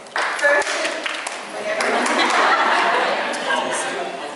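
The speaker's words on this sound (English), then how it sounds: "let's give them all a round of applause" Graduation ceremony audience applauding together, a dense steady wash of clapping with some laughter and chatter mixed in, sustained throughout.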